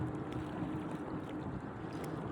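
Strong wind blows by the shore as a steady, dense roar with broadband rumble buffeting the microphone, continuous and loud with no talking.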